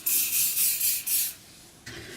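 GG Anesthetic Numbing Spray hisses from its can in a run of several close, fairly loud spurts, then stops briefly before one more short, softer burst.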